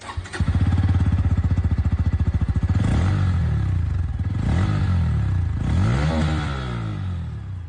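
A 2024 Bajaj Pulsar N160 with an underbelly exhaust throbs loudly in a rapid, even beat, then revs up and falls back in several sweeping throttle blips close to the microphone.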